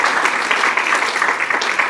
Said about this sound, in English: Can we give them all another huge round of applause?